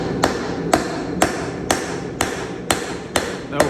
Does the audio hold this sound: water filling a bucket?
no